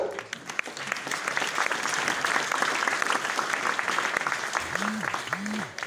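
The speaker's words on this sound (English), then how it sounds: "A clap for Samuel" An audience at a graduation ceremony claps steadily for several seconds, a dense even wash of applause with a brief voice near the end.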